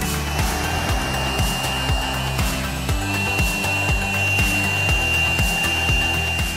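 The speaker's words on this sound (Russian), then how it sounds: "Какой же прекрасный пылесос" An Avreology bagless cordless vacuum cleaner runs steadily and loudly up close, a continuous motor whine with a rhythmic scraping pulse as it is pushed back and forth, with no talking over it.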